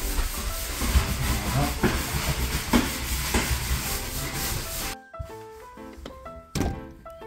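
Hot oil spatters loudly while frying in a kitchen in the Korean countryside, hissing and sputtering continuously, then cutting off abruptly, leaving scattered quieter pops and crackles.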